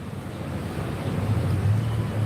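Sea waves washing against the shore, a steady broad rush of surf with wind noise buffeting the microphone and a low rumble swelling slightly toward the end, with no voices.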